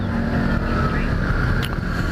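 A smooth, steady Kia Carnival minivan engine idling close by, a constant low rumble with no change in pace throughout.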